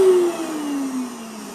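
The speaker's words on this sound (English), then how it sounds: "We have so much fun with my Vitamix." A Vitamix blender whirs through squash soup with ginger and coconut, a loud steady high-speed whine that slowly drops in pitch as it runs, close and alone.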